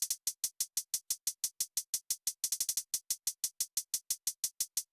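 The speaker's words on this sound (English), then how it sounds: "Next we have the hi-hats" Programmed hi-hat in FL Studio for a hoodtrap beat: crisp, bright closed hats tick at a steady even pace, with a quick rapid-fire roll bursting in partway through, no voices.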